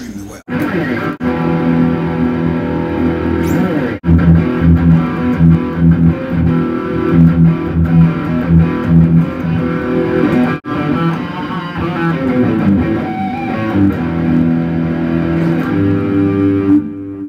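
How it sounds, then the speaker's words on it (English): Electric guitar driven through a distortion pedal into a Fender '65 Twin Reverb reissue amp, dense saturated chords and riffs played continuously and loud, with a couple of brief breaks between phrases. "does handle distortion pedals extremely well."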